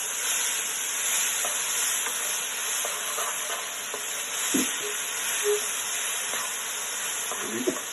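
Okra curry fries in a pan while being stirred, giving a constant sizzling hiss with occasional soft scrapes and clicks of the spoon against the pan, moderately close with no talking.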